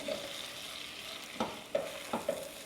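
Butter browning in a pan on a home kitchen stove, melting and cooking down, gives a soft continuous sizzle with a few sharp stirring scrapes and clicks near the end.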